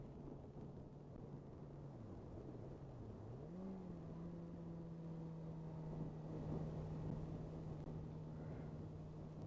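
A Suzuki GSX-R 1000 motorcycle leans through a blind corner on a valley road, its engine droning steadily and heard from the rider's position. The pitch sags, then climbs and holds as it powers out, with no voices.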